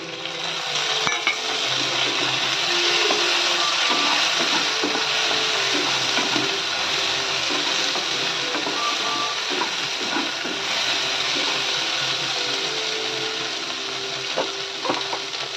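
Onions and tomatoes sauté in a pan for a Tamil-style vatha kuzhambu, a loud continuous sizzle with occasional light clicks of a stirring spoon, steady throughout with no talking.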